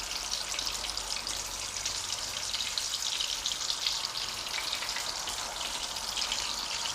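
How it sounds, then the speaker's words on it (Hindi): Mutton keema kebabs fry in a small amount of ghee, giving a steady, close sizzle with fine crackling and no voices. "थोड़े से घी में फ्राई हुए हैं"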